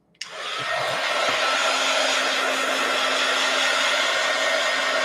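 A hair dryer switches on with a click and then blows in a steady, loud, unbroken whoosh while a craft project dries.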